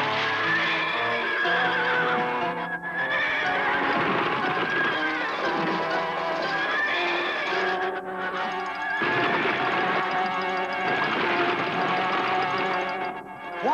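Horses neighing and whinnying loudly and repeatedly through a dense, full mix of continuous sound, with strong harmonic calls rising and falling over the whole stretch.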